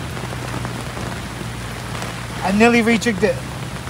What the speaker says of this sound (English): Just got a far out, heavy rain.